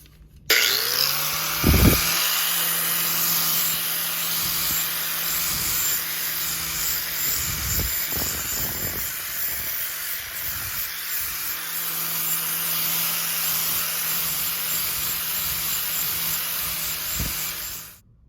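A power grinder working a turbo turbine housing smooth, a loud continuous high-pitched whine that spins up, runs steadily with brief scraping bursts as it bites the metal, then winds down at the end.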